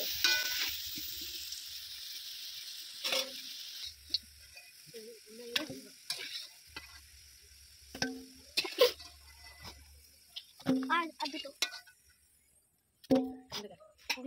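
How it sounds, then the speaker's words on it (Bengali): Cauliflower florets frying in hot oil after potatoes for a homestyle potato-cauliflower curry, giving a steady sizzle broken by scraping stirs and clatters from the pan, alone with no talk. "তেলের মধ্যে এবারে ফুলকপিগুলো দিয়ে দিচ্ছি।"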